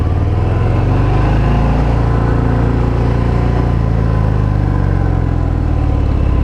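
2020 Harley Davidson Fat Bob 114 motorcycle engine while riding, a loud steady low throbbing rumble with wind rush, sustained close and unbroken throughout.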